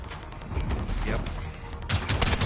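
Close-range hip-fire gunfire against nearby enemies in the PS4 game Generation Zero: rapid bursts of shots in uneven clusters, louder toward the end, with some voice underneath.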